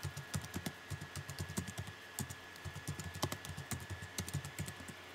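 Quick clicky keystrokes on a computer keyboard, typed in an uneven stream of taps, close and fairly quiet with no voices.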